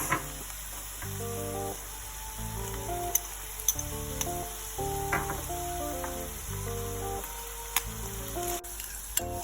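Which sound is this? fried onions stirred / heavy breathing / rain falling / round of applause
fried onions stirred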